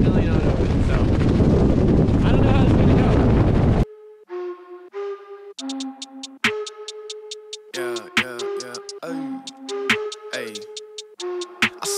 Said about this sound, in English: it's windy as can be